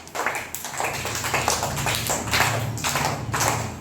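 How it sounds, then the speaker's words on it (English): Schoolchildren in a classroom clap their hands together, a loud, fairly quick run of overlapping claps with a rough group rhythm, close by and continuous. "You should clap your hands and start moving."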